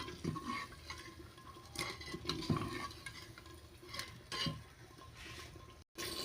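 Potatoes being stirred into a spice masala in a pan for a cauliflower pakora curry, with repeated scraping and clattering strokes over a soft sizzle, close and moderately loud, no talking.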